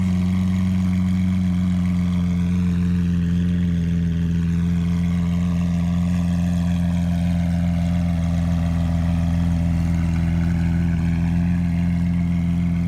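A 2013 Lamborghini Aventador LP 700-4 on its standard exhaust idles steadily up close, a loud, even low rumble with no revving or talk over it.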